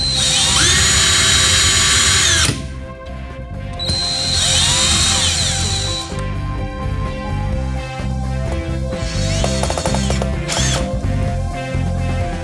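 Xiaomi Tonfon 20V 2000 mAh cordless drill-driver running in several loud high-pitched whining bursts, its motor pitch rising and falling as it speeds up and slows, with a steady mechanical hum underneath.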